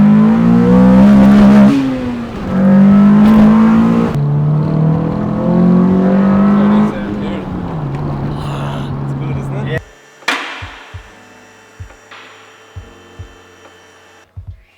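A Honda Civic engine revs hard into VTEC, a loud, strained mechanical note that holds high, dips and climbs again for several seconds before dropping away, followed by a few sharp clicks and knocks in the quiet.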